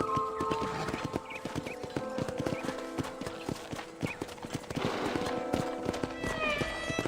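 In the video game Red Dead Redemption, horses' hooves clip-clop steadily in a corral over a bed of music, with an occasional whinny mixed in.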